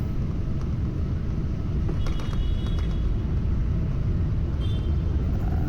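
Passenger jet braking hard on the runway after landing in Dubai, heard as a loud, steady, broadband roar and rumble that holds evenly throughout with no pauses.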